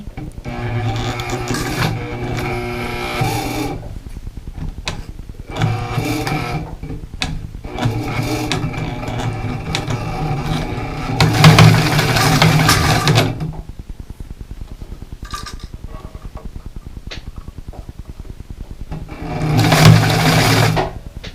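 A domestic sewing machine stitching a zigzag stitch whirs in steady mechanical runs, stopping and starting in several bursts with quiet pauses between, close and clear.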